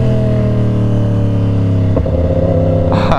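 A rare Yamaha R1 sport bike fitted with a sprint P08 filter and engine block-off revs loudly nearby. Its steady, deep, uneven drone shifts pitch about two-thirds of the way through.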